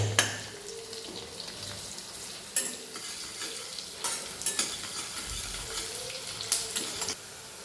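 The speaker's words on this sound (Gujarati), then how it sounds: "મિત્રો આપણી ડુંગળી મીડિયમ પિંક કલર થઈ જાય ત્યાં સુધી આપણે એને સાતળીશું." Sliced onions sauté in a pan, stirred now and then with a spoon, giving a soft steady sizzle broken by a few sharper scraping stirs, close by with no talk.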